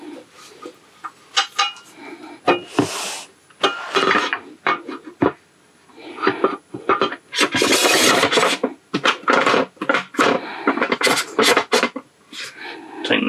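Metal rail fittings being tightened down inside a 2021 Pleasure-Way Plateau TS camper van: a busy run of close scraping, clinking and rubbing bursts, loud and irregular, with no talk.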